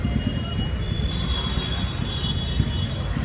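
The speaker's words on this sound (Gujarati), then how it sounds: "આ આપણી નાની એવી ટ્રેન." A small train sits at Bhavnagar railway station with a steady low rumble and a high, thin squeal of wheels, continuous and moderately loud, with no voices.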